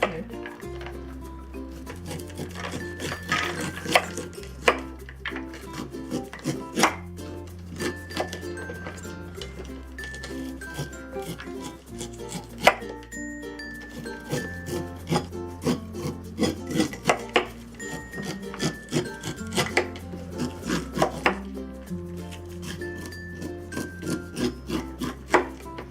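A knife run down a fresh corn cob to strip the kernels, repeated scraping strokes with light clicks against a cutting board, set against steady background music.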